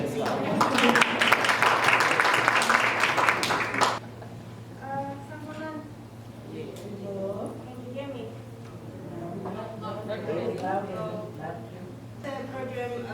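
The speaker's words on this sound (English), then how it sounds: "Very clap hands for her as well." A crowd of women at a conference gives loud, dense applause for about four seconds, then someone speaks over a faint steady hum.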